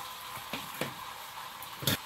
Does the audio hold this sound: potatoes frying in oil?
yes